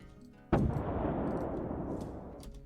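A single loud cannon boom made as a sound effect for a video game hits sharply, then a long rumbling tail fades slowly with no reverb added.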